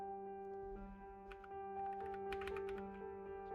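Quick keyboard presses tapped out at a steady clip beside a constant electronic hum, with small clicks scattered over roughly three seconds and no voices.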